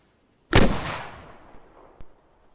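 A MAAWS rocket launcher fires in Arma 3 at a target 800 meters away: one sharp, loud blast with a long rumbling decay, then a faint distant thud about one and a half seconds later.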